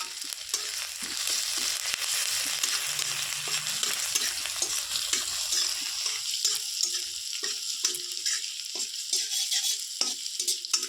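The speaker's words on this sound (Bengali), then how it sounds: "আদাটাও লাল লাল হয়ে ভাজি হয়ে গেছে" Ginger and fenugreek seeds fry in hot oil in a pan, a loud steady sizzle with bursts of spatter and scraping stirs running throughout, close up and with no voices.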